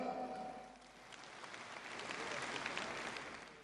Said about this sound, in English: The applause that we heard from the diaspora in those capitals was an echo of their own aspirations